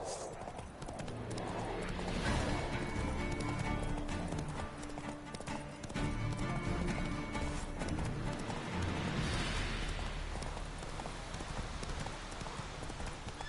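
Hooves of the horse Roach clip-clop in a steady galloping rhythm in The Witcher 3, loud and continuous with occasional neighs over game music.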